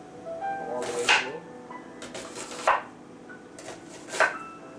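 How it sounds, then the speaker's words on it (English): Knife cutting an onion into ring slices on a board, three distinct crisp cuts spaced about a second and a half apart, close, over faint background noise. "So I'm just going to cut it in nice slices all the way through."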